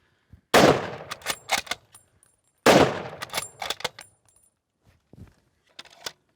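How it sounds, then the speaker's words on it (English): Two sharp, loud bolt-action rifle shots ring out at a shooting range, each followed by the metallic clacks of the bolt being worked, with quiet gaps between. "Chamber that round and take your time working that bolt properly."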